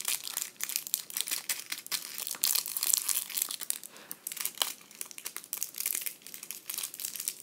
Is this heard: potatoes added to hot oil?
no